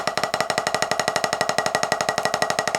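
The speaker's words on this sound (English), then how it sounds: "a single stroke roll might sound something like this" Fast, even single stroke roll on drums, a steady stream of evenly spaced hits with no gaps, close and moderately loud throughout with no talking.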